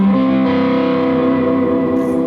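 A sustained Suhr electric guitar chord rings out with a gritty, distorted tone, held steady and loud before fading slightly.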